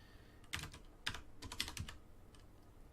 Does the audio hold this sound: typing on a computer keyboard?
yes